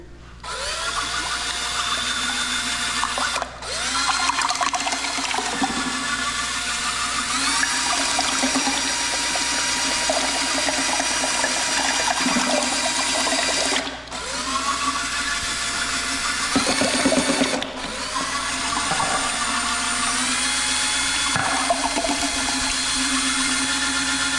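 A power mixer stirring epoxy for a garage floor whirs continuously at high speed with brief dips, a loud steady mechanical drone mixed with a liquid churning sound.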